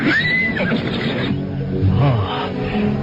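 A horse neighs loudly while being led across a swift, rocky river, a rising whinny followed by lower snorting calls over a constant rushing background.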